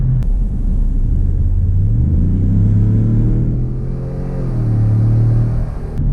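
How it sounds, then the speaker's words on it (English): A 2019 Ford F-150 Lariat Sport with a turbo engine accelerating: a loud, steady low rumble with engine pitch climbing and shifting across several seconds, heard from close by with no talking. "I do like the noises that the turbo makes"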